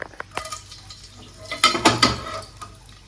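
Ground masala paste spluttering in a hot pan with bay leaf and star anise, a few sharp pops and spits plus utensil clatter, loudest in a short burst midway.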